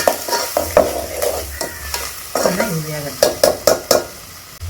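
Cabbage and carrot fry cooking in a pan, with sharp spatula scrapes and taps over a low sizzle, close and fairly loud, in quick irregular strokes.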